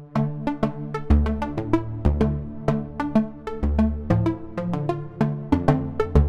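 Plucky synth notes repeat as a note echo built in Bitwig's Note Grid, with delayed taps transposed an octave down and seven semitones up, forming a busy, clearly articulated cascade of decaying tones with no voices.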